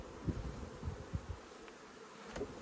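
Honeybees from a swarm buzzing in a low, steady drone with a few louder close passes, faint and continuous without speech.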